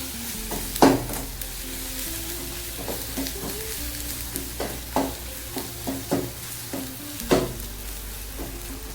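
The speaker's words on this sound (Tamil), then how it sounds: "எண்ணெயில் கொஞ்சம் அப்படியே வதங்கணும்." Chilli and turmeric powders sizzle in hot oil for brinjal curry while a spoon scrapes and stirs the pan several times, making sharp clinks over a steady frying hiss.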